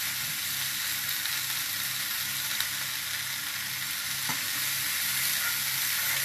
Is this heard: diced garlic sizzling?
yes